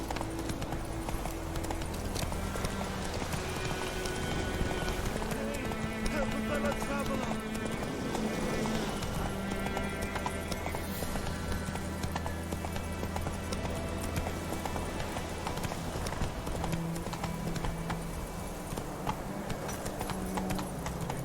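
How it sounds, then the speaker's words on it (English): A horse gallops in The Witcher 3 video game, its steady, rapid clip-clop hoofbeats running throughout over a continuous bed of game ambience and music, with voices now and then. "Run, Roach."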